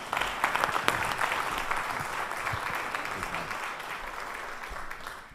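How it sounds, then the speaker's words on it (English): Sustained audience applause fills a large hall after a geography conference presentation, dense and steady throughout with many overlapping claps, fading slightly near the end. "Let's please give them a round of applause."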